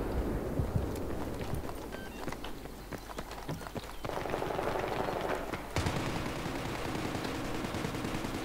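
Enemy gunfire in Battlefield 3: rapid bursts of shots crack out in clusters over a steady bed of battlefield noise, with a dense volley midway and continuous rumble to the end.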